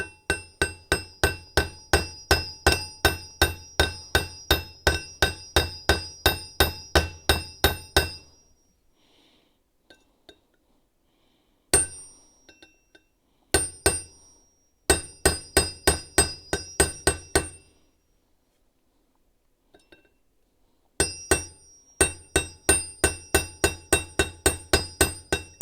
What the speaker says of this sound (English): It's a wood hammer, but it'll work.